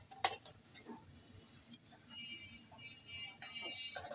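Hilsa fish heads fry in oil with onion, turmeric and chili for an eggplant curry, giving a faint sizzle broken by sharp clinks and scrapes of a utensil stirring against the pan.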